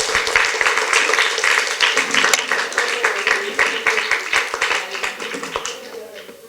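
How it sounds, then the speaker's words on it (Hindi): Enthusiastic clapping from a group at a children's camp, rapid and rhythmic, building then gradually thinning out toward the end; some voices mixed in. "जोरदार तालियां।"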